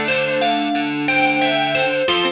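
A distorted, effects-laden software guitar (Guitar Rig in FL Studio) plays sustained chords in short phrases, thick and buzzy with a shimmering, chorused tone, no voices.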